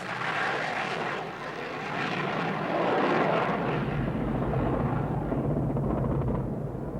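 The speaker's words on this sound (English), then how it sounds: "The Tornadoes continued to fly to attack a wide variety of targets." An RAF Tornado combat jet flies during the 1991 Gulf War, a loud, continuous engine roar that swells and shifts in tone as it passes, with no speech.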